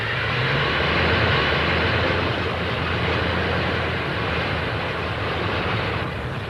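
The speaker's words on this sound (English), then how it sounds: "Modern four-engined heavy bombers added new might to the RAF from 1941. This, the short Stirling" Short Stirling four-engined heavy bomber from the RAF's 1941 fleet, heard as a steady, loud, continuous engine drone with deep rumble and broad roar, unbroken by talk throughout.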